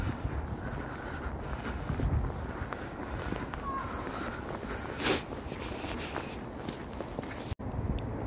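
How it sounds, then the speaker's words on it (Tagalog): Strong, bitterly cold winter wind blows outdoors in Russia at minus 16, a continuous low rushing roar buffeting the microphone with a brief gust near the middle and a sharp knock near the end. "Ang lakas ng hangin."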